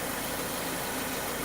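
2014 Subaru Forester engine idling after an oil change, a low steady hum with faint even vibration throughout and no voices.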